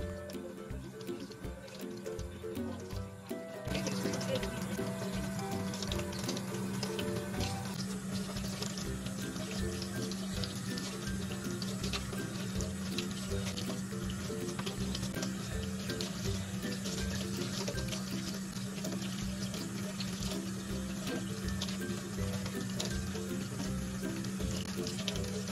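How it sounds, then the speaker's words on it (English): Tap water runs steadily into a sink while a doll's hair is wetted before shampooing, a continuous close splashing stream that grows louder after a few seconds, with no talking. "I'm gonna start off by going in just with some water, just to go ahead and, you know, wet the hair a little bit"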